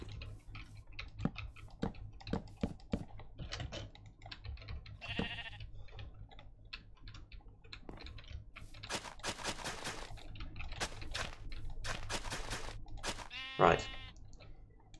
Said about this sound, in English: Out of the way, sheep.